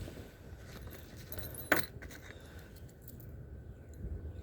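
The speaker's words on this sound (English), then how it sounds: "More keys." A bunch of keys picked up from a roadside gives one sharp, close jangle, with a little rattle around it and a low hum of passing traffic behind.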